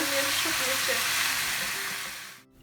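Potatoes frying for aloo bhaji in a home kitchen pan, a dense continuous sizzle with occasional stirring, fading at the end as the heat is lowered.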